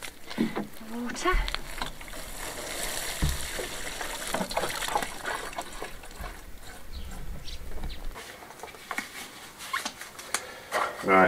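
Freshly sown seeds in a farmhouse garden are watered, giving an uneven splashing trickle that comes and goes in bursts against faint background noise.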